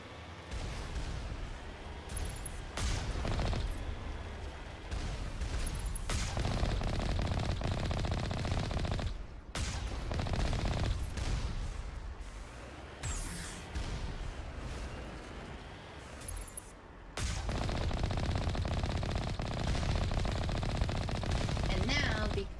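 Automated turrets unleash sustained gunfire in Mass Effect's Asteroid X57 DLC, a dense, loud stream of rapid shots running almost unbroken with brief gaps, layered with game effects and some speech.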